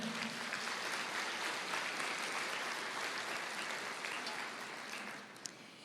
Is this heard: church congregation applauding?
yes